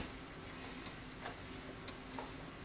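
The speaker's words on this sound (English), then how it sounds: "the ticking noise can stop. We should have paused the timer." A countdown timer in the Horizon Worlds virtual-reality game ticks softly, with faint, evenly spaced clicks over a low steady hum and no voices.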